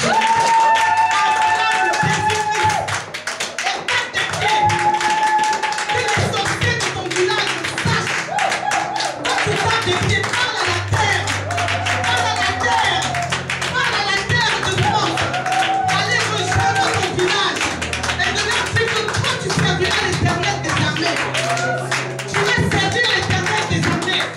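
A church congregation stamps rhythmically on the floor and cheers, a loud dense mix of taps, claps and crowd voices that runs continuously for the whole stretch, with musical tones and talk mixed in.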